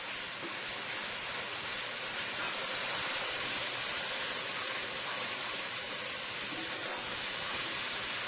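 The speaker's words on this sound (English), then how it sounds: "That is frying up nicely there into the pot." A constant sizzling hiss of jackfruit curry frying in a hot pot, steady and close, with no voices.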